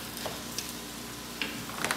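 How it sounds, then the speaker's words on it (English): Dry rice toasting with vegetables in a paella pan gives a soft, steady sizzle with a few brief crackles and stirring scrapes, fairly quiet and close, with no talking. "pour the dry rice into the pan and let it cook just for a little bit"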